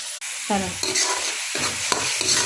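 Onion paste frying and being stirred in a home kitchen pan, with garlic paste already in, giving a steady close sizzle broken by scraping stir strokes and a few sharp utensil knocks.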